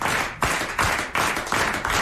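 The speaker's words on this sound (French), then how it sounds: "Regardez-le, applaudissez-le." A TV studio audience claps in unison, loud rhythmic bursts of many hands landing together about three times a second, close and punchy with brief gaps between beats.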